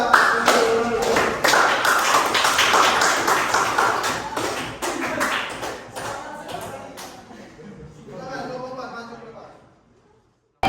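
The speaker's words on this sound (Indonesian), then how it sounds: "tepuk tangan buat kelompok 4" Classroom applause for a student group stepping up to present, a dense patter of hand claps and taps with voices mixed in, thinning out toward the end.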